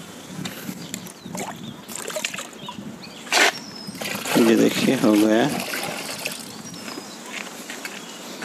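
Liquid decomposer culture is poured into a half-filled container of water and mixed, giving sloshing, trickling splashes, while someone talks over parts of it.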